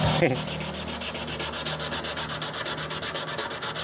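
Sandpaper rubs across a motorcycle body panel in quick, steady back-and-forth strokes, a close, evenly repeating scratchy rasp with no voices.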